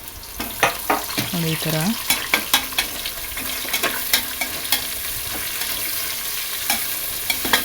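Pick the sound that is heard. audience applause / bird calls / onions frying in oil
onions frying in oil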